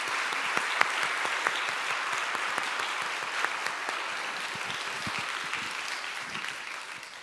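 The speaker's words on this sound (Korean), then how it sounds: "박수로 합니다." A church congregation at a Korean invited worship service claps in sustained applause, dense and even with scattered louder individual claps, gradually tapering toward the end.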